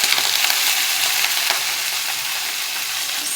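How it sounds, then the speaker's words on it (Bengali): Boiled drumstick leaves fry in a pan with browned garlic, onion and chili, giving a loud, steady, close sizzle that holds evenly without pause. "শাকটাকে দিয়ে ভেজে নেব ভালো করে।"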